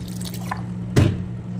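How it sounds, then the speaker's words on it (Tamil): Water added to chapati flour with salt falls as a single short, close splash and drip into the bowl over a steady low kitchen hum. "இப்போ இதில் தண்ணி மிக்ஸ் பண்ணிக்கலாம்"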